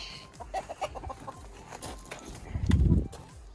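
Sebright hens cluck in short, close bursts, with a louder low scuffle near the end.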